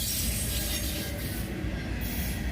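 Freight train with black cars rolling past on the tracks during a meet with a second train waiting on the other track, a loud, steady rumble of wheels with metallic squeal near and continuous.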